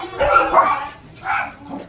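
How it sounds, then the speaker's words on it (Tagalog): Several dogs barking and yipping close by, a burst of overlapping barks followed by a second shorter round. "Daming aso, oh."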